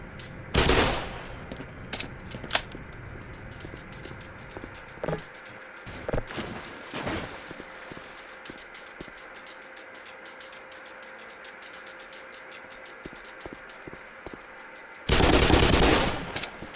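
Gunfire in the Black Mesa game, with scattered sharp shots and short bursts against a low electrical hum, ending in a loud sustained volley of rapid fire.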